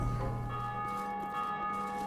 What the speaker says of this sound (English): I believe this is what rings the bell.